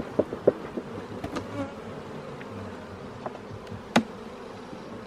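Honey bees buzzing around an opened hive during a fifth-week inspection of a new colony, a dense close hum with individual bees droning past and a few soft knocks, no talking.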